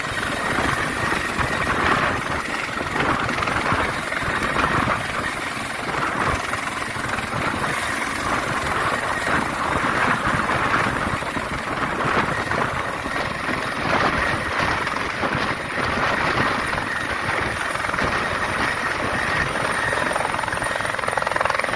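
Continuous loud whir and rapid chop of a helicopter hovering nearby while filling with water from a small pool, steady throughout with a thick rushing wash of noise.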